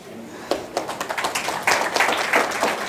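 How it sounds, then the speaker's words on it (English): An audience at a women's summit applauds a panel, scattered claps swelling into fuller applause that stays fairly close. "Keep applauding for the panel over here, ladies and gentlemen."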